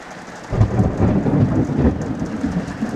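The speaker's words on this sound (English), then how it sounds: "I've already heard 3 lightning strikes back to back" Loud thunder from nearby lightning strikes in a monsoon storm, a deep rolling rumble that swells and keeps grumbling over steady rain.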